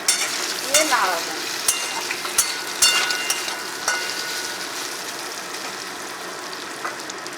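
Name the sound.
stirring boiled potatoes frying in a pan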